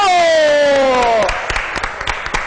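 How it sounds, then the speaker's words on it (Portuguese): A loud voice fades into an audience breaking into applause, steady clapping filling the room with a few sharper claps standing out. "Vamos aplaudir ela, Sandra Pereira Sutil!"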